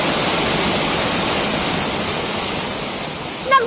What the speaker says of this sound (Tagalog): Nagmistulang waterfalls ang baha sa Jose Panganiban Elementary School sa Camarines Norte